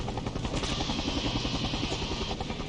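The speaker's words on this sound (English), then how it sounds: "Where's that helicopter?" Helicopter in the video game 007 The World Is Not Enough, a steady loud rotor whir with dense rhythmic thumping that runs unbroken through the whole stretch.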